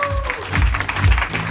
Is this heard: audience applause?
yes